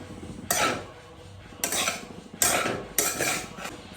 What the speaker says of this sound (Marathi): थोडंसं विनेगर टाकलंय आणि आता आपल्याला हे असं मस्त मिक्स करून घ्यायचं आहे